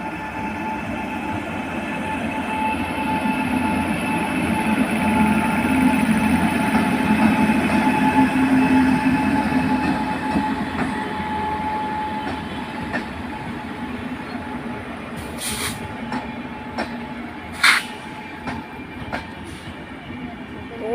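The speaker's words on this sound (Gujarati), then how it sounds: "તો આ રાજકોટથી હવે વેરાવળ તરફ જઈ રહી છે ટ્રેન અને અત્યારે જઈ રહી છે." A long, crowded passenger train running from Rajkot toward Veraval rolls past with a steady rumble and wheel noise that swells in the middle. Sharp clanks and squeaks come near the end, with no talk.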